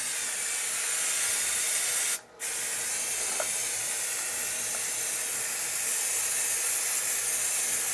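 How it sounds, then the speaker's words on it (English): Brake cleaner sprays onto bolts from a 2005 Toyota Corolla 1.8 oil pan in a loud continuous hiss, broken by one short pause before the spray resumes steadily. "I like to spray some brake cleaner in here."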